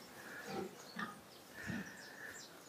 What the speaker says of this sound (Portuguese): Nós temos alguns porcos aqui.